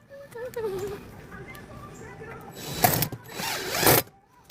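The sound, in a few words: driving 2-inch screws to tack down umbrella base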